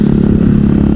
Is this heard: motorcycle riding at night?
yes